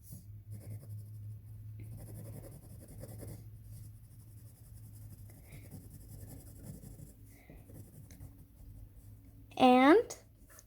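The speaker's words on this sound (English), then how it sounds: "hopefully you have like a dark colored pencil or crayon, and you just kind of shade" Dark colored pencil or crayon scrapes steadily across paper while shading, a soft continuous rasp with a low hum beneath and a person talking over it, ending with a brief bleat-like vocal sound.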